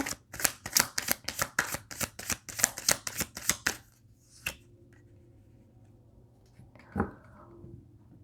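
Tarot cards shuffled for a reading, a rapid rhythmic riffle of close crisp slaps for about four seconds, then quiet with a single faint tap and a soft thump.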